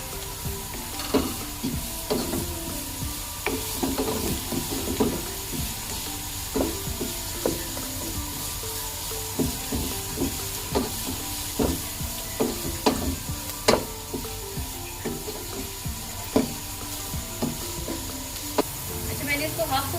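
Cabbage and bell pepper stir-fried in a pan for a chicken macaroni and spaghetti dish, a steady low sizzle broken by repeated clacks and scrapes of a spatula stirring throughout, close and moderately loud.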